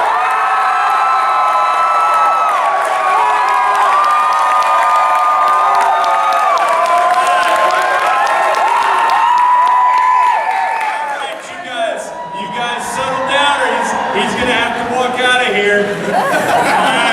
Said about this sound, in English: Can I count to 3 and you guys just cheer like crazy?